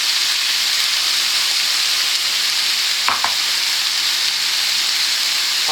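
Chunks of seasoned pork loin and mushrooms sizzle steadily in a hot pan, a loud continuous frying hiss with a brief scrape of stirring midway and no talking.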